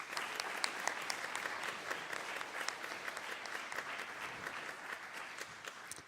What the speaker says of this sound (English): A round of applause, please, for these gifted Nova Scotian recipients.